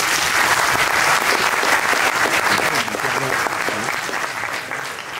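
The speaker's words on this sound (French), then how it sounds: "Je vous demande de faire un tonnerre d'applaudissements pour Anna et Alexandre" An audience gives loud, sustained applause for contestants Anna and Alexandre at an eloquence competition final in Paris, dense clapping that holds strong and eases slightly toward the end.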